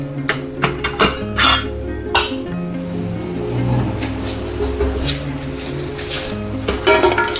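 Pieces of a camping cookware set, kettle and nesting pots, being unfolded and stacked by hand, with repeated close metallic clinks, scrapes and rubbing knocks in an uneven rhythm, and no talking.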